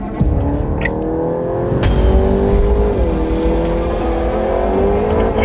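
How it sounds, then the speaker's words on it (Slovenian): A Volkswagen Golf GTI Edition 50 hot hatch driven on a race track, its petrol engine droning loudly and steadily close by, the pitch rising and easing as it works through the gears. "Pa gremo zdaj s to posebno različico GTI-ja na progo."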